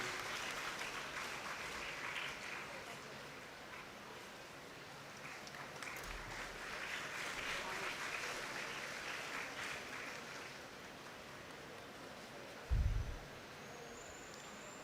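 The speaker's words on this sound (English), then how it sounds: "Please give them a huge round of applause." Applause from the audience at a legal awareness seminar: a long, steady patter of clapping heard from some distance, fairly faint, with one brief low thump near the end.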